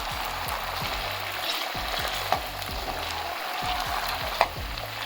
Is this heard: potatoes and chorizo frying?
yes